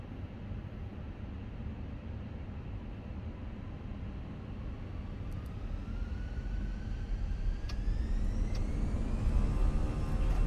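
A Fenix A320 airliner in MSFS 2024 spools its engines up to takeoff thrust on the runway, a broad steady roar with a rising whine that climbs and grows louder over time.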